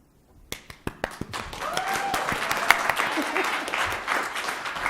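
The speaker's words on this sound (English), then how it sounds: "May we welcome them with warmth in our hearts and with a resounding round of applause." Audience at an event welcoming guest speakers starts with a few sharp, separate claps after brief quiet, then builds into full, steady applause from many people in a room.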